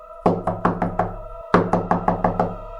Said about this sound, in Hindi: दरवाजे पे नॉक होता है